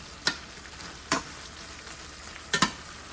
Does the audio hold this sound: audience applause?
no